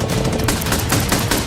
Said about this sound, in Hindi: हमने ब्लेक को एक चीज नहीं बताई है, ये गन्स उन 4 फेजेस में से एक है जो हमने इस लैम्बोर्गिनी को बर्बाद करने के लिए बनाए हैं।